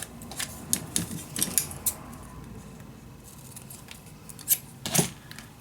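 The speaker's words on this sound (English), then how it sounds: "Cut the edges off." Scissors snipping the edges off paper in a scrapbooking craft, several short crisp cuts in uneven bursts, close and fairly clear with quiet gaps between them.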